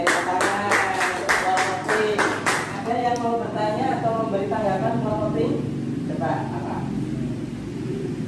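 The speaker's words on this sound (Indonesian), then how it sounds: "Oke, tepuk tangan." A classroom group claps together, starting with a burst of sharp, rhythmic claps that give way to looser applause, with voices talking throughout and background rumble beneath.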